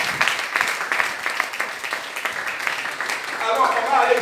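A church congregation claps and cheers in praise, with steady applause and raised voices running continuously and swelling toward the end.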